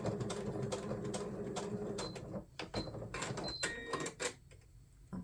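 A sewing machine runs a plain straight stitch down strips of scrap fabric, its steady whirring giving way to a few short starts, stops and clicks near the end, with no talking.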